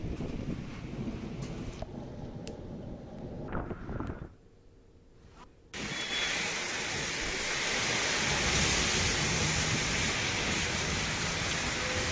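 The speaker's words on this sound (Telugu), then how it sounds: "హైదరాబాద్ లో భారీ వర్షం కురుస్తోంది." Heavy rain pours down over Hyderabad as a dense, steady hiss that briefly drops away, then returns louder and fuller, with a low rumble underneath.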